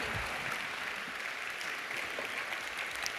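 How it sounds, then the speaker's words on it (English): A seminar audience applauds Emma in a warm round of clapping, moderately loud and continuous, with a few sharper individual claps standing out near the end. "Big round of applause"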